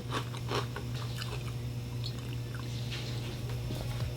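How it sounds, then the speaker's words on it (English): Planters cheese curls being chewed in a handful, with close, steady crunching and biting bursts repeating over a constant low background hum. "I would take a bunch of these, throw them back, chew a little bit."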